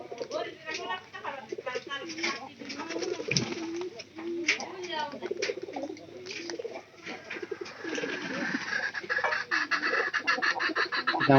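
Domestic pigeons coo repeatedly in soft, throaty bursts close by, overlapping with someone talking throughout.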